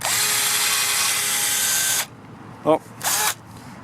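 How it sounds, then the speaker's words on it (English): A power drill boring into a 1/2-inch ferro rod whines loudly and steadily for about two seconds, then stops; a short exclamation follows, then a second brief burst of drilling. "Having a hard time getting this drill to keep going through this."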